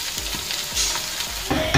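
Sliced onions and curry leaves fry in hot oil, a loud, close, continuous sizzle broken by regular scraping strokes of a stirring spoon against the pan.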